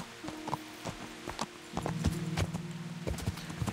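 Horse hooves clip-clop in the medieval video game Kingdom Come Deliverance, a steady run of fairly quiet hoof beats over a low, continuous droning background.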